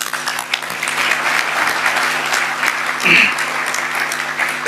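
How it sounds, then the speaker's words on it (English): Applause from the audience at a Pacific leaders' meeting, a sustained even patter of many hands with a faint tone and a brief voice partway through. "allow us all to join our hands together for a round of applause for Fiji's leadership."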